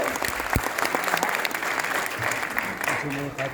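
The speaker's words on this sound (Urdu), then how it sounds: "ایک بار زوردار تالیوں سے ان لوگوں کا سواگت کیجیے" Loud applause from a crowd welcomes guests at a commemoration event in India and keeps up dense and steady throughout, with a voice heard over the clapping.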